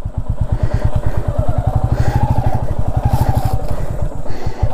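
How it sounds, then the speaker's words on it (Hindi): A motorcycle engine idles steadily with a rapid even putter while the bike is parked in a sunny spot near a village river, close and loud throughout with faint clatter. "इधर रखते हैं बाइक को।"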